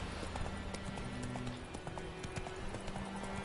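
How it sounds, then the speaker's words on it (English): A horse gallops in The Witcher 3, its hoofbeats a steady, fast clip-clop that runs without a break over a busy game soundscape, moderately loud and with no talk. "Get on your horse."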